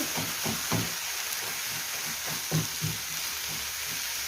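Kofta filling, seasoned with spices, sizzles steadily in a pan while a utensil stirs and scrapes through it, producing soft irregular knocks over a constant frying hiss; no voices.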